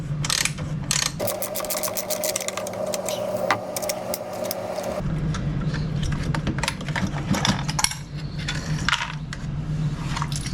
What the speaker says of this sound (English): So we'll get this bolt out and we'll get this nozzle off.